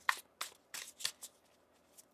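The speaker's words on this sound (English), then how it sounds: "One more shuffle." Tarot cards being shuffled, five or six crisp riffling bursts in a quick uneven rhythm, close and fairly quiet with no talking.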